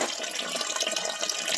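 Water gushes steadily from a running motor pump, a bright, constant splashing flow close to the microphone with no voices over it.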